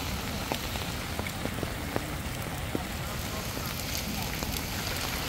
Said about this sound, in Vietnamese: bây giờ mưa rất là to, còn đang mưa rất là to luôn